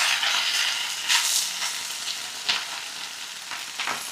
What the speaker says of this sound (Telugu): ఇప్పుడు ఇందులో మునగాకును వేసి వేయించుకుందాం. ఇప్పుడు ఈ మునగాకును వేయించుకుందాం.